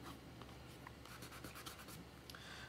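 A pencil scratches across a watercolour painting as shading is added, a faint, soft scratching in short strokes, close but quiet under a steady background hiss.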